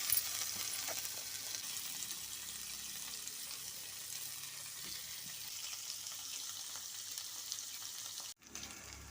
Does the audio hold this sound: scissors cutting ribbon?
no